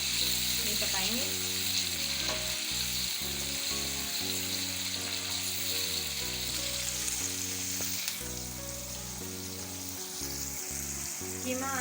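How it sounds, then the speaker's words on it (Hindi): Chicken mince sizzles and fries in a pan with garlic and ginger, a loud, steady crackle under continuous background music, with occasional stirring and no speech. "लहसुन अदरक पक जाने के बाद हम इसमें चिकन का कीमा डाल के इसे ये पकाएंगे।"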